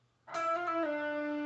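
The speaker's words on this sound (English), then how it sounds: "So it's a combination technique of hammer, pull, slide." A distorted electric guitar note picked and then changed smoothly with hammer-on, pull-off and slide, ringing loud and sustained on its own.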